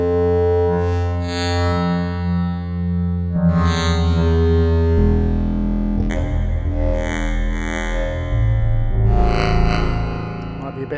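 An ASM Hydrasynth synthesizer plays sustained, richly harmonic notes with reverb added, changing pitch a few times; the sound is loud and close, with tails that ring out between notes.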